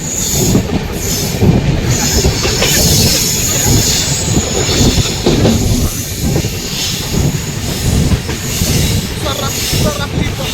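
The 15550 Jaynagar Intercity Express runs between Patna and Muzaffarpur, with a loud, continuous rumble of coaches, rattling wheels and occasional squeals carrying on steadily for the whole stretch.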